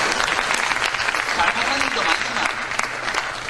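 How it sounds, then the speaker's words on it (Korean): Steady, dense applause from a crowd fills the whole stretch, clapping continuously at an even loudness. "박수 한번 쳐주십시오."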